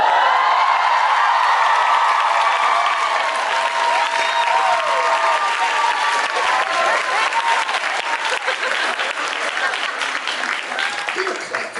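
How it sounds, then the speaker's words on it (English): Convention audience breaking into loud applause and cheering, a big crowd of clapping hands with shouts and whoops on top, sustained throughout and easing slightly toward the end. "Don't clap for that."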